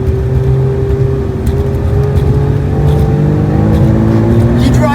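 A modded Cadillac ATS-R accelerates hard on a race track, its engine note droning and climbing steadily from inside the car, while people talk loudly over it.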